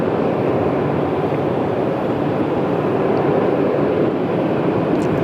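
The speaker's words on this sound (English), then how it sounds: "No doubt a lovely long takeoff roll as well from Etihad." Etihad airliner on its long takeoff roll at Sydney Airport, a steady broadband jet roar holding loud and constant throughout, with no voices over it.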